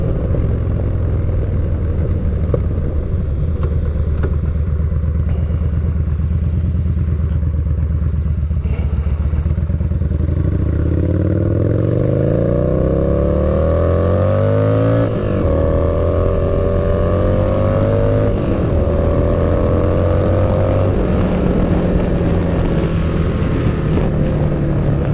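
A motorcycle with retarded ignition timing revving hard through the gears, its engine note climbing repeatedly in pitch, then dropping at each shift and rising again, loud and close with wind buffeting.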